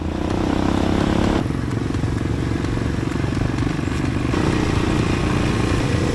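An all-terrain vehicle's engine rumbles loudly and close by at a riverside tourist spot, a rough, steady drone with crackling clatter and shifting revs.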